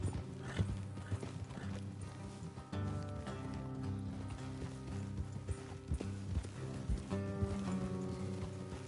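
Horses clip-clopping along in Red Dead Redemption, steady hoofbeats with an occasional whinny over a continuous backdrop of game music and ambience, fairly loud and close throughout.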